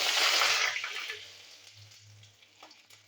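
Bay leaf hits hot oil in a pan with a loud burst of sizzling that quickly fades to a softer crackle, with no talking.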